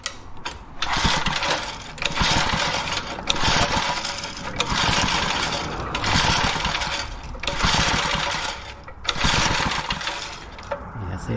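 Pre-war Riley Brooklands engine on full choke, cranking and catching in repeated loud bursts of roughly a second each, separated by short pauses, with an uneven, struggling start that never settles into a steady idle.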